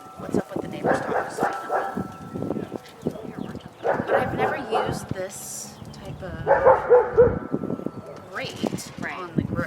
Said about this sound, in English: what's up with the neighbor's dog?